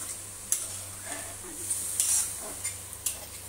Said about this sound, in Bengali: জল দেওয়ার পর একটু নাড়া দিলাম।